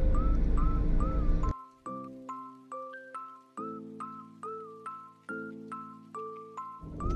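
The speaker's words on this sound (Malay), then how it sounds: "Bahagian burung-burung migrasi." Repeated harsh bird calls ring out one after another in an indoor migratory bird exhibit at a wetland attraction, tonal and fairly loud, with clear gaps between calls and a rumbling background at the start and end.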